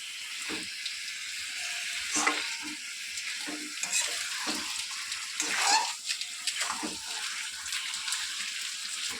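Chicken frying and being stirred in a home kitchen pan, a steady soft sizzle with occasional scraping stir strokes, fairly quiet and close, no voice over it.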